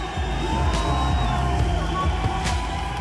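A huge, noisy crowd of spectators cheers at a WRC rally in Chile, a dense continuous roar with scattered whoops and shouts, close and loud throughout.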